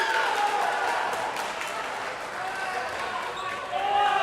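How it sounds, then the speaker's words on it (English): A gym crowd at a college dodgeball match, Michigan State against Grand Valley State, cheers and roars steadily with the sound of balls bouncing, while an announcer talks over it. "every time they get a kill, this crowd just explodes"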